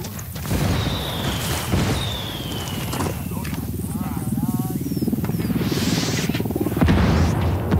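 Video game explosion from an indirect fire strike on a military open-world map, a dull boom rolling under dense battlefield ambience with scattered crashes and movement noise.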